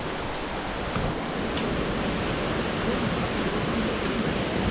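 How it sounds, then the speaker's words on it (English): A park river flowing beneath a bridge on a cold day gives a steady, broad rushing wash, close and even, with no voices. "Got this nice river just flowing underneath."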